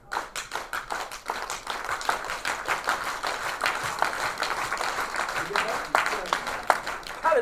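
An audience at a presentation on Black music claps together in a steady gospel-groove rhythm, evenly spaced sharp claps repeating throughout while a voice speaks over them.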